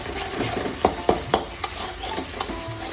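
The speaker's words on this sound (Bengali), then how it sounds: "মশলাটা কষিয়ে দিতে ভালোভাবে।" Ground coriander, cumin, chili powder and turmeric stir-fried in a pan with ginger and tomato for a Bengali green banana curry, a steady close sizzle broken by several distinct spoon scrapes and taps, with no talking.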